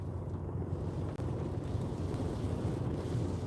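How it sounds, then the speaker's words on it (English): Strong wind buffets a parked car during heavy rain, with a steady low rumbling roar close to the microphone and no voices. "Well, you can hear that wind though, can't you?"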